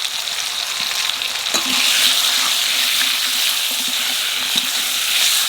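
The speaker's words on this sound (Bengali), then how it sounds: "আলুটা একটু বাজে নিচ্ছি" Potatoes frying with salt and turmeric in a pan, a close, steady sizzle with occasional spatula scrapes and knocks against the pan, no talk.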